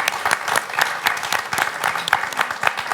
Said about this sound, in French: vous pouvez l'applaudir, vous avez raison